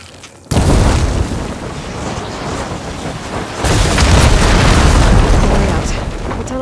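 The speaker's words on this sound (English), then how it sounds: "Hitting those blaze barrels with fire ammo should do the trick." Blaze barrels hit with fire ammo explode in Horizon Forbidden West, a sudden loud boom followed by a long rumbling roar, then a second heavy blast swelling midway and fading slowly.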